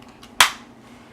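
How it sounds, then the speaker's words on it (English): A single sharp handclap rings out once, close and crisp, in an otherwise quiet room. "Now clap your hands once."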